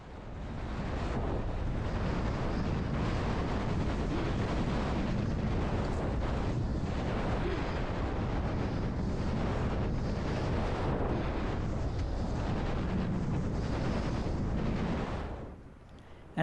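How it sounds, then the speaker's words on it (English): Strong, steady wind roars across the microphone while wing foiling in open water during a state championship race in Hawaii, a loud continuous rumble that lasts almost the whole time and then drops off sharply near the end. "Now I've got some good wind and a nice lift."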